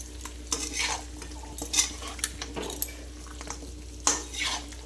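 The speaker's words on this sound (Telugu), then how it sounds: "కస్తూరి మేతి మొత్తం అయితే ఒకసారి కలుపుకోవాలి." Spatula stirring chicken fry with kasuri methi in a pan, with repeated scraping and clinking strokes against the metal over a low steady sizzle, close and moderately loud.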